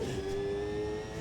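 High, smooth whine of a Formula car engine in Automobilista 2, a steady electric-sounding tone holding nearly constant pitch at moderate volume, with no voices.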